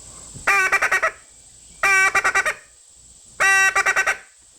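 A teal duck call for blue-winged, green-winged and cinnamon teal mimics hen quacks in three loud bursts, each a held note followed by a quick run of short staccato quacks, with silence between.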